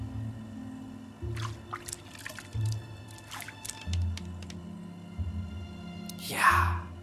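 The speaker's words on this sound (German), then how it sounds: "Unentwickeltes Foto und das hier jetzt ins Wasser rein." An undeveloped photo goes into water in a hidden-object game, giving a short wet splash and squish near the end over looping low background music and a few faint clicks.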